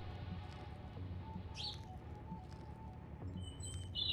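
Birds chirp faintly in a video game setting, a few short high tweets and a brief trill standing out over a steady low ambient hum, no one talking.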